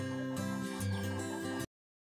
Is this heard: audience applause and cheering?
no